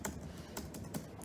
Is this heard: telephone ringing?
no